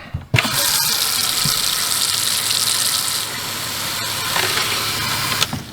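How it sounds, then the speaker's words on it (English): Cold water gushes steadily from a lavatory sink faucet, a loud continuous rushing splash close by, starting abruptly and running without pause. "Our sink, our lavatory is going to be our farthest point away from the water pump."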